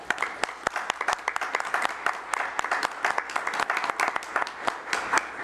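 Applause at a city commission meeting for Nicole Travis, a moderate crowd clapping steadily in a council chamber with sharp individual claps standing out, sustained throughout.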